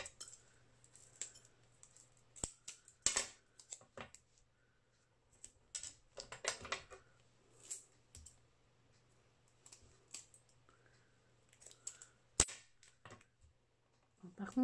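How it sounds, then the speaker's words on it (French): Metal scissors knock and clack against a cutting board while paper cards are being crafted: sparse, sharp, quiet taps scattered irregularly, with longer gaps between them. "quand je remets mon ciseau sur la planche, je dois faire un peu trop de bruit."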